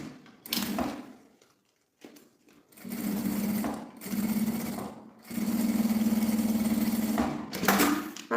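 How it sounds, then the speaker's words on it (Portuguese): A sewing machine stitches bias tape onto plastic for a small zippered pouch, running in several loud, close bursts of steady droning hum broken by brief stops and pauses. "Passei a costura nesse viés, viro pro outro lado e vou costurar outro aqui."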